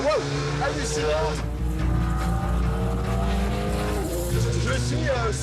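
An Alpine GT4 race car laps the Circuit de Bresse, its engine droning loudly and continuously with rising and falling pitch, possible tire squeal, and a voice speaking over it.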